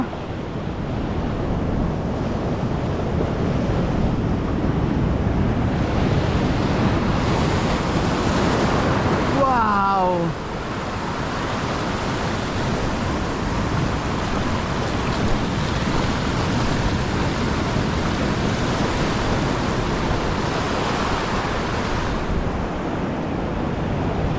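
Heavy surf pounds the shore in a constant loud roar mixed with wind noise on the microphone, and a brief whistling, squealing sound cuts through briefly midway before the waves carry on unchanged.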